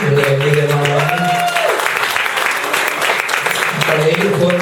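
Church congregation applauding, loud continuous clapping from a crowd while a voice talks and a held musical tone sounds underneath.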